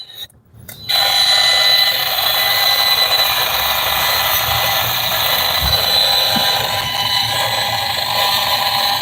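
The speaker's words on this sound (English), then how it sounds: "And you hear that high-pitched whining that they're transmitting in here." A steady high-pitched electronic whine, continuous and piercing, starting abruptly and holding over a faint low rumble.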